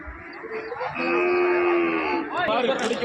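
Cattle lowing at a native-breed livestock market in Karungalpalayam, Erode: one long, loud moo rising above a crowd murmur, followed by another call.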